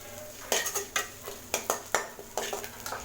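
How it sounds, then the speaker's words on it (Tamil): Curry leaves and green chilies being sautéed in a pan on low heat, a spatula knocking and scraping the pan in repeated sharp strokes over a faint sizzle. "கருவேப்பிலையும் பச்சை மிளகாயும் இதோட வதக்கிட்டோம்"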